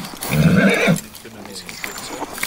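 A white horse gives a loud, close whinny lasting about a second, followed by quieter rustling and faint hoof sounds, with a voice speaking over it.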